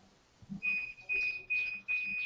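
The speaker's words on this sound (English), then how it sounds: "What the hell is that beeping?" Electronic beeping repeats in four high, steady tones with short gaps between, fairly close and clear over a quiet background.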